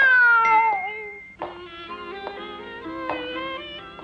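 A cat meows several times nearby, the first call long and sliding down in pitch, then a few shorter meows in quick succession.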